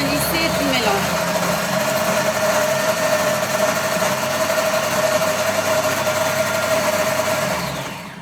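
A Thermomix-style food processor whirring at speed 7-8 through chocolate batter, a steady loud motor drone with a constant hum that holds for several seconds before winding down.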